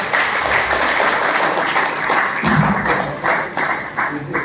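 Loud, sustained audience applause fills an indoor gathering, dense clapping holding steady throughout with a few louder swells near the end.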